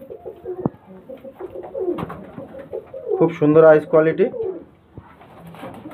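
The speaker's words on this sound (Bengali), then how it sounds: "এটা নর পায়রা, আর এটা মাদা পায়রা।" Male and female pigeons for sale coo close by in a repeated throaty rhythm, partly under someone speaking about them.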